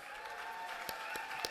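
A gala dinner audience at an events industry awards night applauds, steady distant clapping with a few sharper claps standing out, fairly faint in a large room.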